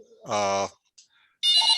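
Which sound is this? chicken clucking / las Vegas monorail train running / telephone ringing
telephone ringing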